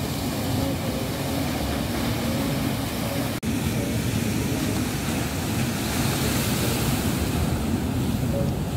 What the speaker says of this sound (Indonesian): Beginilah suasana Pantai Padang di sore hari.